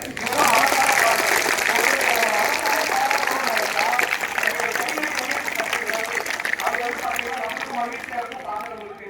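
Sustained applause from a school audience in a hall, loud and steady throughout, with a chatter of voices mixed in beneath the clapping.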